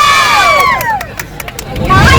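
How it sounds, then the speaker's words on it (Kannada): An audience at a small orchestra performance held inside a bus cheers and claps in a short burst, mixed with sustained musical tones and crowd noise. "ಚಪ್ಪಾಳೆ"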